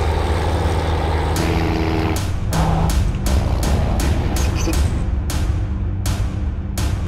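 Inside a Freightliner truck hauling a Snowcat on the back, the engine drones steadily and close, broken by a series of sharp, regular clunks and hisses through the ride, with no voices.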